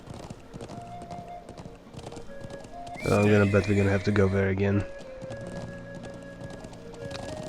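Hooves clip-clop from a horse in the video game Trails of Cold Steel, with a loud whinny in the middle, all under a person talking and game background music.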